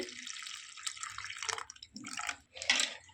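Tamarind water is poured into a pot of small fish curry, giving a soft, uneven splashing and trickling that comes in bursts. It is fairly quiet and close, with no talking.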